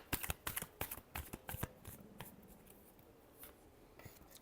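Tarot cards are shuffled in a quick burst of crisp riffles and slaps, strongest at first, then trailing off into softer, sparse handling sounds, close and alone.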